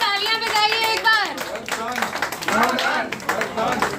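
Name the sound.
applause for the chief minister at a blood donation camp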